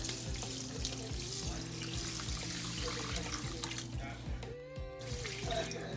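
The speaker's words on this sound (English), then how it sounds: "5 cups of water" Water pours steadily into a pot, a continuous splashing rush with a brief pause near the end before the flow resumes.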